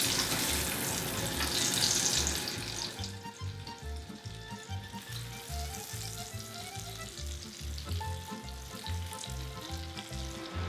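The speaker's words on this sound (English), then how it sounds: "Now I'm gonna fry." Parboiled chips fry in olive oil with a steady, close sizzle and crackle, and a faint bubbling hiss continues throughout with no talking.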